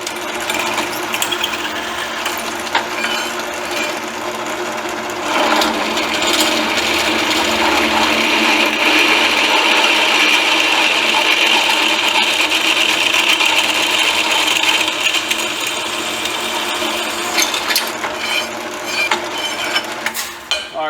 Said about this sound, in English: get these holes drilled out